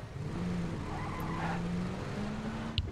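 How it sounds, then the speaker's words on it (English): A vehicle drives in the PUBG video game, its engine humming steadily at moderate distance, with a skidding, tire-squeal tone and a brief sharp click near the end. "I thought I heard another vehicle."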